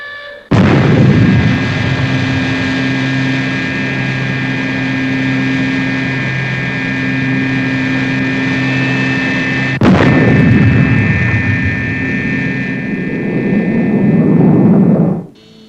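Rocket lift-off of a supply ship in the Fireball XL5 puppet series, a loud sustained roaring blast with a steady engine whine over it, a sharp bang partway through, then the roar swelling again before cutting off.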